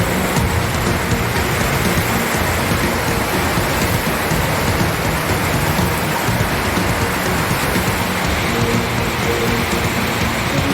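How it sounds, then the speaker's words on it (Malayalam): Loud, dense downpour of heavy rain in Kumily, Idukki, Kerala, pounding surfaces continuously, a constant roar with no voices. "ഇടുക്കി കുമളിയിൽ കനത്ത മഴ തുടരുന്നു"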